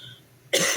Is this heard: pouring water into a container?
no